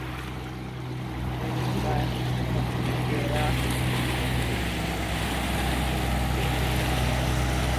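A motorboat engine drones steadily on water in Guatemala, growing louder after the first second and holding a continuous low rumble with water noise.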